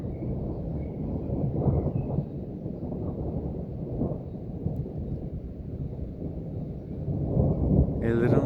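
Thunder during a lightning storm over rocky cliffs: a deep, rolling rumble that swells and fades repeatedly over a constant low background, with a brief sharper sound at the very end.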